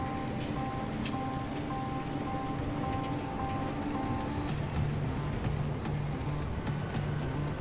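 Steady rain patters continuously in the driving game Pacific Drive, with a hum and a couple of sustained tones from the car underneath, a dense even hiss with no voices.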